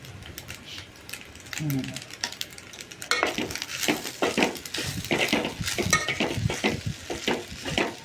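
A spoon stirs rice with masala, oil and onion in a pan, making dense repeated scraping and clinking strokes over a light sizzle, close up, with a voice speaking briefly early on.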